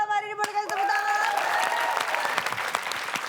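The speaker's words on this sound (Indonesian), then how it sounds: "Boleh kasih tepuk tangan?" Studio audience at a TV quiz show breaks into loud, sustained applause after a sung tone and a sharp hit, the dense clapping filling the room to the end.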